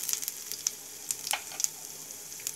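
Cumin seeds, ginger and green chilli fry in hot oil in a pan, a soft continuous sizzle dotted with sharp pops and crackles, no talk.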